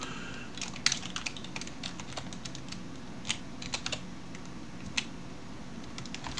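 Keys clatter on a computer keyboard in quick, irregular bursts, faint and close, with a few sharper strokes standing out and no talking.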